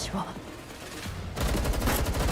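Bursts of rapid gunfire in the video game Girls' Frontline 2: Exilium, starting quieter and then growing louder and denser, with a rattling machine-gun rhythm.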